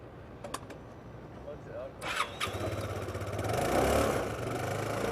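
An ethanol-fuelled motorcycle engine cranks with a few sharp clicks, catches and settles into a steady idle, then swells to a louder, rougher run before easing off, with people talking in the background.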